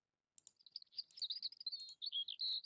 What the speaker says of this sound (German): Wow, diese Vogelgezwitscher ist sehr laut.